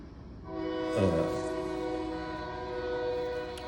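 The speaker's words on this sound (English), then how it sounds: "sorry, that's a train." A loud, sustained train horn blares from a moderate distance over low rumbling, holding its chord for a few seconds.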